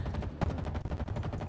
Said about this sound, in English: There's some sort of laser cannon in this now.